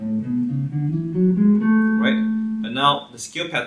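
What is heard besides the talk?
No distinct noise like a dog, phone or traffic.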